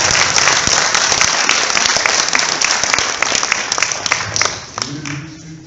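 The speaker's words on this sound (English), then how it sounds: "give them a huge round of applause" A crowd applauds at a Riverside after-prom hypnosis show, loud dense clapping that carries steadily for several seconds before cutting off, with a voice coming in at the end.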